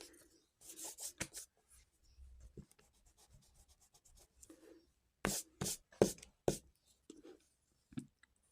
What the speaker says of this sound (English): now I'll have to write this line